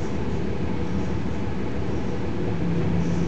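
A JR Ishinomaki Line train runs between Watanoha and Ishinomaki, a steady loud interior rumble and rattle with no voices, heard from inside the carriage.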